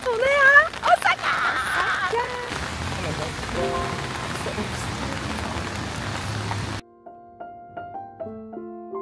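Light rain falling steadily in Kyoto, a dense patter of drops on surfaces with a voice speaking over it early on, followed by a few soft melodic tones once the rain fades out.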